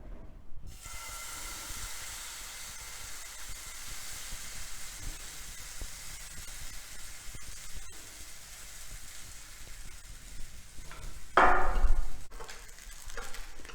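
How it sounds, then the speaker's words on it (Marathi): Besan paneer chilla frying in hot ghee on a pan gives a steady, close hiss of sizzling throughout, with a brief louder burst of spitting near the end and no voices. "पॅन गरम करून त्यावर तूप टाकून घ्यायचं आहे आणि आपण छोटे छोटे चिले त्यावर घालू शकता"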